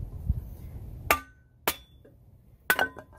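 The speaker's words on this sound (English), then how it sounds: "Hear that nice deep sound? That's a very high quality steel there." A high quality steel kindling splitter blade struck three times, each a sharp, ringing metallic clank heard up close against a quiet background.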